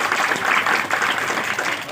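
An audience applauds for child performers at a foundation day celebration, a dense and even wash of clapping that holds steady without a break.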